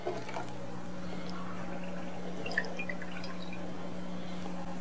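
Excess espresso drips off soaked ladyfingers while making a classic Italian tiramisu, faint scattered droplets and light liquid patter over a steady low kitchen hum, fairly quiet and close.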